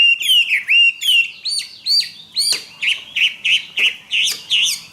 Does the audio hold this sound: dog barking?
no